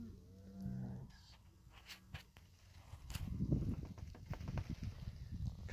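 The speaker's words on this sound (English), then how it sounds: "Cows." Cows on a ranch in farm country moo once near the start, a low drawn-out call, followed by quiet shuffling and rustling movement that grows slightly louder toward the end.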